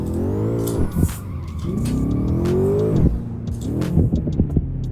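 A BMW M5 F10 V8 in Assetto Corsa revs hard, its engine note climbing in long sweeping pulls with brief drops between gear changes, loud and close with no talking.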